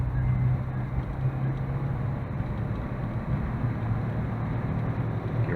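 Daihatsu Atrai turbo kei van accelerating, a steady low engine drone with road and wind rumble heard from inside the cabin, fairly loud and even throughout.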